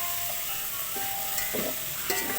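Ginisang mais, sautéed corn, frying in a pan, a steady close hiss of sizzling with a few louder bursts of crackle as it is stirred.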